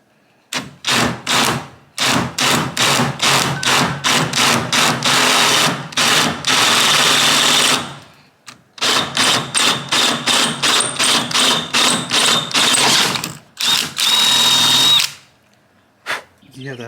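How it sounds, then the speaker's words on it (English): A power drill boring a hole in a truck mount for a flag whip on a Toyota Tacoma, rapid bursts of whirring and grinding in quick stops and starts, close and loud, with short pauses between runs. "drill this out first."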